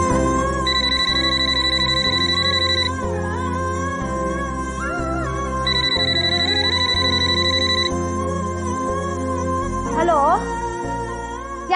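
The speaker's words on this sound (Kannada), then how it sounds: "ಮನೆಗೊಂದು ಫೋನ್ ಮಾಡ್ತೀನಿ" A telephone rings on a call home, with two long trilling ring bursts a few seconds apart over steady background music.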